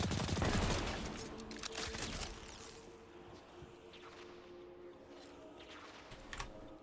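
Rapid submachine-gun fire in the video game Destiny comes in dense bursts, loudest at the start and then thinning into scattered shots and impacts, with no talk over it.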